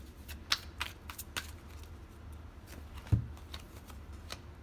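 Tarot cards are shuffled close by in quick, soft riffles and taps, with one sharper knock of the deck partway through, in an otherwise quiet room.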